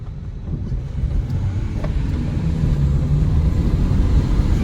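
Steady engine drone of a turbocharged Renault Clio 3 Initiale Paris with rising low rumble as it accelerates, the turbo spooling late, heard from inside the cabin with faint wind noise.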